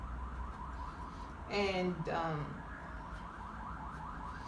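Police car sirens wail in the distance outside early in the morning, a rising and falling tone that swells briefly louder for a moment before fading back under steady traffic hum.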